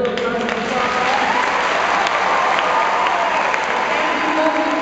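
A large graduation audience applauds, a loud dense roar of clapping with some crowd noise, continuous and even from start to finish.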